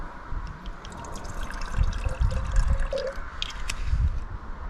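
Gin is poured into a tiki mug of crushed ice, a soft, close trickle and splash with faint crackling from the ice. No one speaks.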